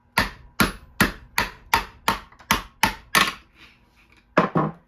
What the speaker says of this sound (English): just tap it out with a hammer